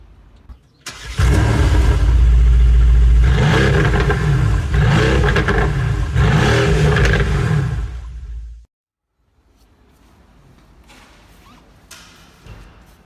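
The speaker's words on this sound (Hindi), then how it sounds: "आइए इंजन साउंड सुनते हैं।" A 2022 Mercedes-AMG GT R petrol engine fires up with a sharp bark, then revs loudly and repeatedly for about seven seconds before cutting off abruptly into near silence, heard up close.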